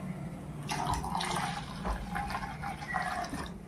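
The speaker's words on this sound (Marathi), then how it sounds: "थंडगारच पाणी टाकायचं त्याच्यामध्ये." Cold water splashes and gurgles as it is poured into a mint pani puri mix, a soft, steady stream lasting a few seconds at close range, with no talking.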